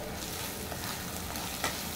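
Sliced onions fry lightly in oil with ground coriander, cumin and salt for an egg bhuna, giving a steady, close, even sizzle with one brief stir scrape near the end.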